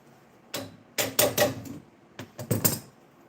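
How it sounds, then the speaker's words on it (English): Gas valve on a home furnace clicking as the heat switches on, a handful of sharp, fairly close clicks and knocks in two short clusters with quiet gaps between. "You can definitely hear the valve clicking."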